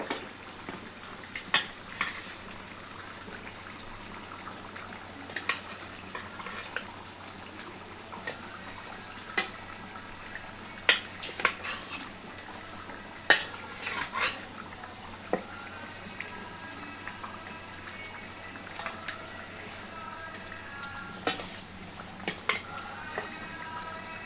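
Fish pieces for a Telangana-style fish curry dropped one at a time into a pan, giving soft, irregular sizzles and splashes over a steady low frying hiss, close and fairly quiet, with no talking.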